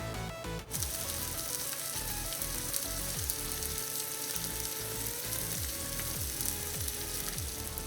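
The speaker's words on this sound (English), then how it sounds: "take our gammon of bacon, place it into the skillet, and let it sit there for approximately 2 minutes" A gammon of bacon frying in a hot skillet gives a loud, constant crackling sizzle with dense popping spatter, heard up close and alone for several seconds.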